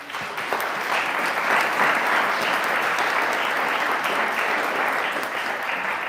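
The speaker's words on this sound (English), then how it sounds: "We can all give them a nice big round of applause." An audience at a city design competition celebration in Tucson applauds, sustained clapping from a crowd of moderate size that holds steady for several seconds.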